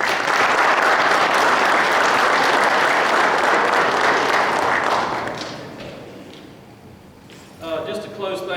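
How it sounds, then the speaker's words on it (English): A football banquet audience gives sustained, loud applause that tapers off after about five seconds, then a voice begins speaking. "I'd like to give a big round of applause to our speaker, Ira Nichols, and Ira Bedenbaugh."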